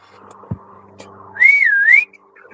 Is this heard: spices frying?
no